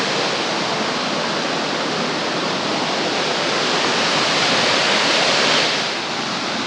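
Steady, loud roar of a double waterfall at Seven Sisters Waterfall in Sohra, Cherrapunji, a dense broadband rush of falling water that continues without a break, with no voices.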